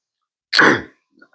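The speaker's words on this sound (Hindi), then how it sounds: "सॉरी, आजकल थोड़ा खांसी हो रही है, जुकाम खांसी।" A single loud, raspy throat clearing with a short cough-like burst from a man with a cold, close by, followed by a faint trailing sound.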